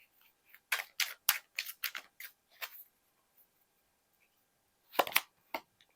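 Tarot cards are drawn and handled in a burst of crisp, papery snaps and slides, followed by a pause and then a couple more flicks, close up and with no talking.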